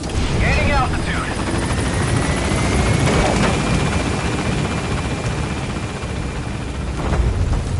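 In Metal Gear Solid V, the B-Quad support helicopter lifts off from a landing zone, its loud, continuous rotor roar filling the scene as radio-style voices talk over it.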